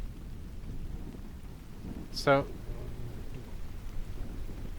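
Steady rain hisses through a storm ambience in the video game Unfair Flips, with a single sharp thunder crack near the middle that settles into a low rumble. A voice speaks briefly over it.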